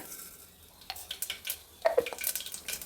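Mustard seeds splutter in a little hot oil inside a cooker, with sparse crackles at first, then a denser burst of close, light popping and spitting.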